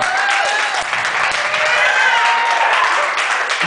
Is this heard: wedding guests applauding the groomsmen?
yes